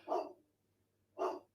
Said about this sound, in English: there is Coda barking in the background